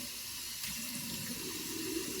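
Water runs steadily from a tap onto shaving soap being worked into a lather, a continuous close splashing hiss with no talking.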